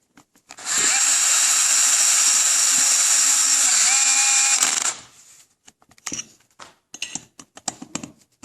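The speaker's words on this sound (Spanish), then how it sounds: "aquí estamos ya atornillando la culata" A power screwdriver drives down the cylinder head bolts of a Walkerjet 200 engine, one steady loud whirring run of about four seconds, followed by clicks and clatter of handling parts close by.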